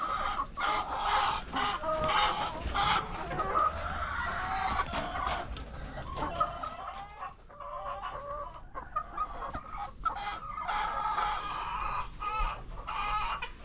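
Decal white chickens cluck steadily throughout, with a rooster crowing now and then, a busy close flock sound with no talking.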